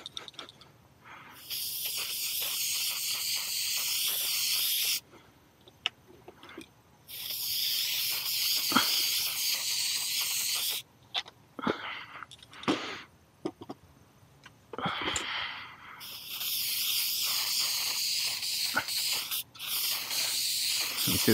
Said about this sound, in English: Just going to put some lubricant on the blades.